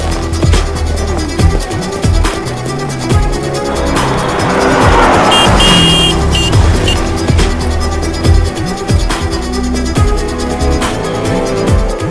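A car speeds off hard with loud tire squeal, engine roaring over a steady rush of motion, a sharp screech peaking midway and continuing through the getaway.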